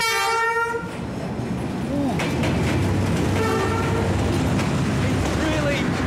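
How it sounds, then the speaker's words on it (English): A train rolls in along a narrow street track in Hanoi's train street, opening with a loud horn blast, then a steady close rumble and clatter of rail cars that fills the clip, with faint voices mixed underneath. "I think the train's coming"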